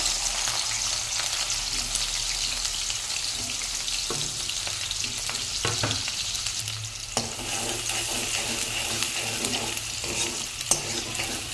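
Onions frying in oil in a kadai on the stove for gongura chicken curry, a steady broadband sizzle with occasional stirring clinks and scrapes, close and continuous with no talking.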